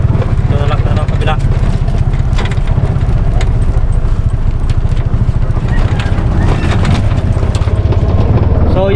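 A loud, close tuk-tuk three-wheeler engine, such as a TVS King or Bajaj RE, runs continuously with a steady, pulsing mechanical drone that fills the whole stretch.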